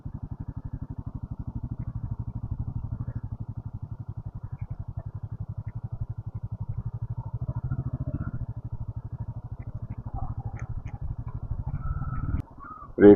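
Motorcycle engine running steadily while ridden on a rough, slippery downhill mountain trail in Binsar Wildlife Sanctuary, Kumaon, a continuous close chugging throb with faint clatter, ending in a brief loud knock.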